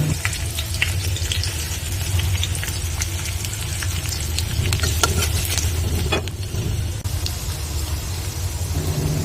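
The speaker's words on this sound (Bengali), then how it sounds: "সাহস করে আমি দম করে তেলের মধ্যে পেঁয়াজ কুচি ছেড়ে দিলাম।" Chopped onions hit hot oil in a pan and fry with a loud, continuous crackling sizzle full of small spattering pops, near and unbroken for the whole stretch.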